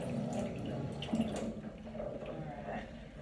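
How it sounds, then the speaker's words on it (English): A stained glass blood-smear slide is rinsed under a running tap, a soft, continuous trickle and splatter of water held close throughout at low level. "I'm going to gently run it underneath the water"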